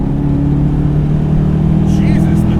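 A 2016 Mazda MX-5 Miata with a swapped 520 hp LS3 V8 pulls hard in fourth gear, its deep steady engine drone loud and close throughout while a person speaks over it.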